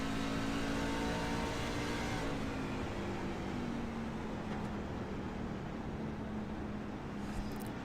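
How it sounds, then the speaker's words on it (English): Racing truck engines at the Milwaukee Mile oval, a loud sustained drone with a pitch that slowly falls as the trucks slow through the corner, steady and close throughout. "The RPMs, they all sounds like they're almost stopping these darn trucks in the corner."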